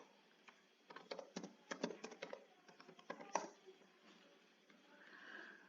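Login credentials are typed on a computer keyboard in quick, uneven bursts of close key taps, pausing briefly before a last few presses, with faint background noise and no talk.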